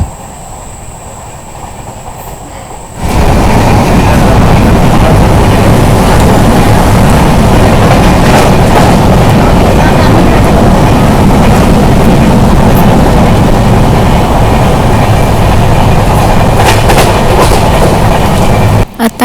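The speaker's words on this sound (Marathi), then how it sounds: "आता कोलाड स्टेशन क्रॉस करते ट्रेन" The Dadar–Ratnagiri Janshatabdi Express (12051) rumbles steadily along the tracks past Kolad station, loud and close, with a continuous rattling roar after a brief quieter opening.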